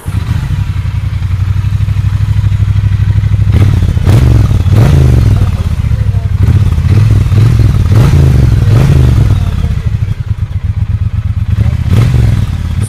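A Triumph Bonneville T120 with a 1200cc twin engine idles loudly and is revved repeatedly, each blip rising and falling over a constant heavy rumble up close.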